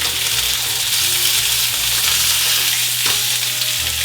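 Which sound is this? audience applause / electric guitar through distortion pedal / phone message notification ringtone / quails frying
quails frying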